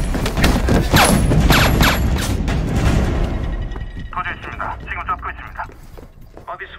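Gunfire in a film gunfight: dense, rapid volleys of shots crowd the first three seconds, then thin out and fade beneath quieter background sounds.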